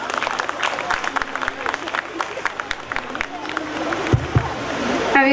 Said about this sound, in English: request our parents to put hands together to give them a big claps for this beautiful try